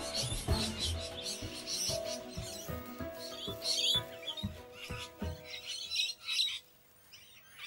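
Squawks and chirps from parrots come in bursts over a low, steady background, fairly quiet and with no voices.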